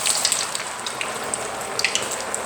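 Potato pieces deep frying in hot oil give off a steady, loud, bright hiss with crackling pops scattered through it, carrying on alone without any talk.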